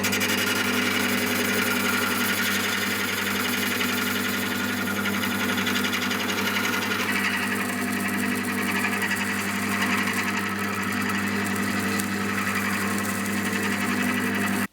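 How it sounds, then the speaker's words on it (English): A lathe turns down the end of a ferrocerium fire-starter rod, giving a steady, continuous mechanical whir with a low motor hum and a fine grinding texture throughout, without a break. "just turn down the end of this on my lathe, just remove a bit of the ferrocerium"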